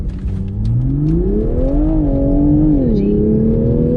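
A C8 Corvette or 2021 Toyota Supra launching from a standstill at a drag strip, its loud close engine tone climbing steadily through the revs, dipping briefly at a shift, then pulling on.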